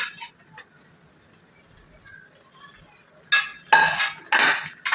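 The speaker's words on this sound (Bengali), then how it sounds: "এর মধ্যে আমি এই টমেটো কুচিগুলো দিয়ে দিলাম।" Chopped tomatoes drop into a pan of frying onions for a fish dish, first a quiet stretch with faint clinks, then two loud, close bursts of sizzling and clatter near the end.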